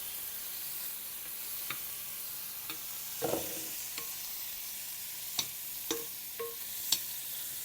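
Vegetables for ramen sizzle steadily in a hot pan, with a soft, continuous hiss and a few sharp clicks and scrapes of stirring.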